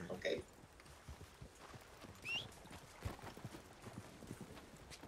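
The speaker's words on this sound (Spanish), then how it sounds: "Vamos a poner los caballos un poco fuera de tiro" Horses' hooves clip-clopping at a walk in a ranch roleplay video game, irregular faint hoofbeats with a brief whinny-like cry, quiet and distant under low background sound.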